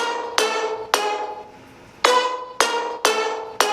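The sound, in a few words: synth stab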